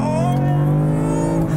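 A BMW M4 engine holds a deep, dark, steady rev close up, a strong low drone with layered harmonics that barely varies.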